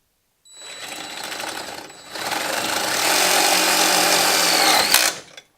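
Power drill driving a self-tapping screw into a metal shelf bar behind the grille of a Jeep Wrangler, a steady close whirring drone that rises in pitch partway through, then stops abruptly.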